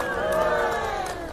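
Crowd of Bangalore locals at a heart health awareness event cheering and shouting steadily, a dense roar with voices mixed in, holding level for the whole moment.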